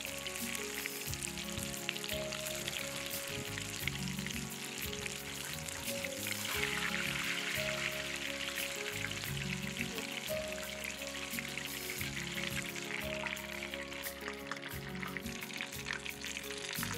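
Chicken fries in hot oil at about 350°F with a loud, continuous sizzle and crackle, steady throughout with occasional bubbling pops.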